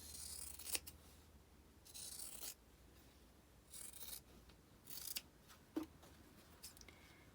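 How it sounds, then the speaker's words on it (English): Scissors snipping through quilt-block fabric along a pencil line, several separate short cutting bursts with quiet gaps between, close and fairly soft, no talking. "we are going to cut on the pencil line."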